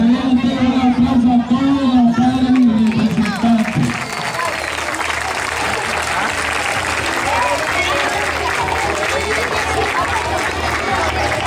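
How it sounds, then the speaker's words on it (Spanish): An outdoor youth football event in Venezuela gets audience applause, a broad wash of clapping and crowd noise. It begins under a voice on a loudspeaker and carries on alone after the voice stops. "Fuerte aplauso para ti."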